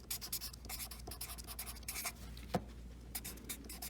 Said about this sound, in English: this is where I'll stamp or I'll just write my name